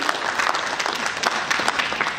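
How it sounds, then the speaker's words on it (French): Applause fills a civil wedding ceremony in Brazzaville: a dense, steady patter of many hands clapping together for the whole moment, fairly close and loud, with no speech over it. "Allez, on applaudit."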